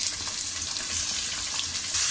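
Tomatoes sauté with onions already fried pink on a tawa for street-style tawa pulao, giving a dense, steady sizzle that is loud and continuous throughout, close up with no talk.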